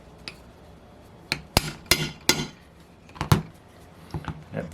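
A model-airplane engine bearing, Boca Bearing Irvine 40 MkII, being tapped into place in a vise, six or seven sharp metallic taps in uneven bursts, close and distinct against a quiet background.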